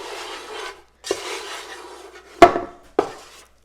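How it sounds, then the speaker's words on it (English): Chocolate chips stirred into a Cinnamon Toast Crunch s'mores bar cereal mixture in a pan: close, gritty scraping strokes in a few separate bursts with short pauses and a couple of sharper knocks, no talking. "now we're gonna put our chocolate chips in, give it a little stir."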